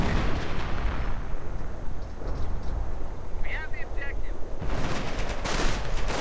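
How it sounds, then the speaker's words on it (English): Artillery fire rumbles in a real-time strategy battle between German and American forces, repeated booming impacts and bursts under a commentator's steady talk, with a brief chirp midway and louder blasts near the end. "more artillery from the Americans already"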